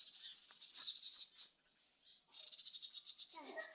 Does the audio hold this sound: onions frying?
no